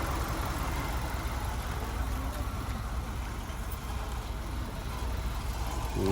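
A car engine idles steadily at a car market in Kyzylorda, a constant low rumble close by with broadband outdoor noise over it.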